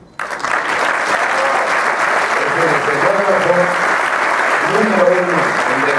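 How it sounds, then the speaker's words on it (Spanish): Loud, dense audience applause at a theatre tribute ceremony, starting abruptly and holding strong throughout while a voice talks over it partway through. "el aplauso es de verdad de todos nosotros"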